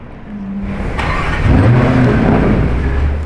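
A Lamborghini Urus Performante, black and yellow, drives past with a rising engine note that swells from about one second and stays loud to the end, with no talk over it.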